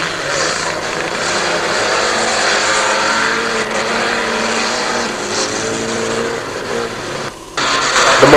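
Race car engine roaring steadily at close range through a circuit race in 1985, with a continuous high-revving drone and a brief dip near the end before the noise surges back.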